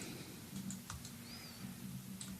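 Computer keyboard keys are pressed in a few soft, scattered clicks while modelling in 3ds Max. The tapping is faint over a steady background hiss, with no talking.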